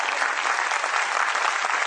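Steady, dense applause from an audience at a school's junior wing annual function, many hands clapping together at an even intensity with no voices standing out.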